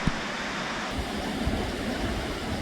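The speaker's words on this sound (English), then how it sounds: "there's that waterfall over that way" A waterfall in the Oregon wilderness makes a steady, even rush of falling water that continues unbroken and sounds moderately distant.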